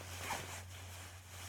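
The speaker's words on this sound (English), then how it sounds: "and then you can zip in the other" A zipper drawn briefly along one side of an insert being fitted into a Wombat & Co Wallaby 2.0 babywearing coat, a quick, quiet close rasp over a low background hum.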